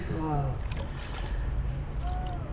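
A shikara ride on Dal Lake gives a steady, close wash of water and boat rumble with faint background voices.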